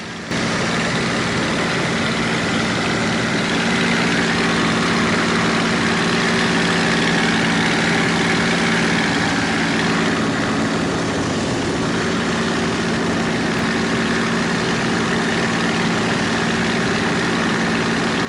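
A Corsair fighter's piston engine cruises in flight with a loud, steady, unbroken drone and broad rushing noise, with no talk.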